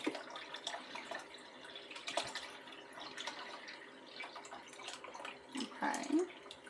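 Water is poured into a cooking pot for a gallon of pickle brine, a faint, uneven trickle and splash that swells briefly toward the end.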